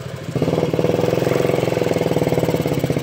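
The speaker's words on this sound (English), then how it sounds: "So the only way I could get this thing started is if I plug the carburetor, give it a little bit of gas." A Honda Ruckus scooter with carburetor trouble runs rough, its small engine starting up and then chugging in a steady, pulsing idle close by.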